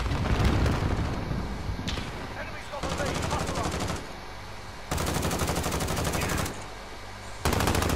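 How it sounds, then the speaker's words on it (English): Sustained machine-gun bursts in Call of Duty Modern Warfare multiplayer on PS4, rattling in several long, loud strings separated by short quieter gaps. "Here, they're all shooting over here."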